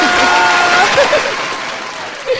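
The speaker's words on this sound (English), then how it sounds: "can we clap for him?" Short burst of clapping and cheering from a small group in a podcast studio, loud and close, fading over a couple of seconds with a brief whoop near the end.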